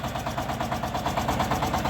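A small diesel engine of a Shifeng SL 350 L mini tractor idles steadily nearby, with a rapid rhythmic chugging throb and no voices.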